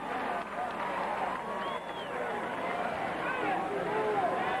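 Oklahoma Sooner fans cheer in a stadium crowd at a college football game against Tulsa, a broad sustained roar heard at a distance with a play-by-play voice talking over it.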